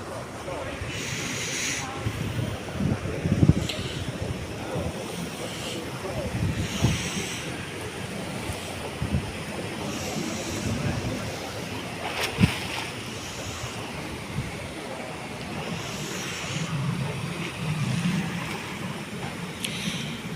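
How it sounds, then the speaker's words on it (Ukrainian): Continuous churning and bubbling of water in a spa pool, steady and close, with occasional splashes and faint voices in the background. "Моє любиме місце ось тут, де вода булькотить."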